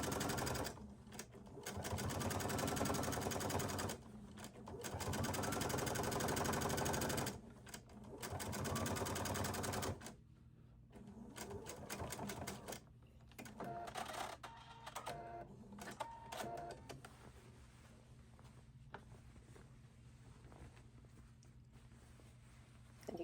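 A sewing machine runs in steady bursts while stitching a seam on a Key West Hawaiian shirt, its rapid mechanical whir starting and stopping several times, close and fairly loud, with brief pauses between runs.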